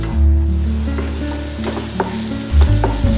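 A chicken and spice mixture being stirred in a hot pan, steady close sizzling and frying with scraping stirs throughout, no voices.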